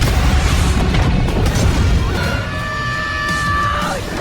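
A plane explodes in a Devil May Cry film with a loud, dense blast and roar, then a thin, steady whine rises over the fading rumble.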